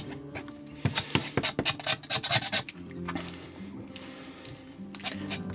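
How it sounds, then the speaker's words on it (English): A knife rasps against a raw chicken bone in a series of uneven scraping strokes, some sharp and some softer, close up on a kitchen work surface with no speech. "just scrape the bone clean"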